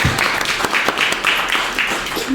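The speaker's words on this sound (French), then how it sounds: "On peut l'applaudir, hein." Applause from the audience at a public town meeting in Courville, France, a short burst of clapping by a modest crowd in a room, fairly loud and steady, with a faint voice briefly underneath.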